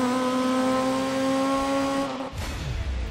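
Rally car engine in DiRT 3, a loud steady high revving drone that holds for about two seconds, then breaks off into rougher lower rumbling and gravelly road noise.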